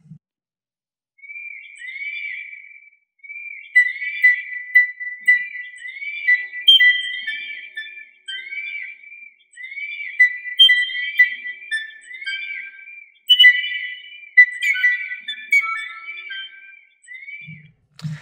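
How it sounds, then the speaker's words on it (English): Birdsong in a fixed accompanying track for a new-music piece, a long string of clear high chirps and whistled phrases with no steady beat, fairly close and alone, with a faint low thump at the very start and end. "most of the accompanying track consists of birdsong, which inherently doesn't have clear rhythm"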